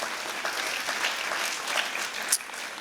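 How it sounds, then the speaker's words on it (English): Brief burst of applause from the audience at a Rotary club's 100th anniversary celebration for a guitarist and singer, a dense, even patter of clapping lasting a few seconds. "please, a round of applause for David"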